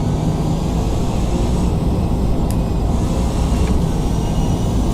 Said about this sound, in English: Oh, there's so much tire noise.